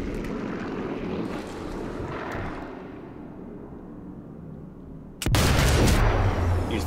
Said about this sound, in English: Use the sound of the planes!